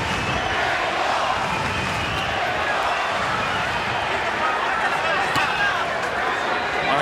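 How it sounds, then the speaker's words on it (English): Boxing crowd roaring at the MGM Grand Garden Arena during a Pacquiao–Marquez fight, a dense continuous wall of arena noise with a commentator talking over it throughout. "Boy, the crowd is really into it here at the MGM Grand Garden Arena."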